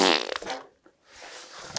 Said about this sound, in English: Fart sound.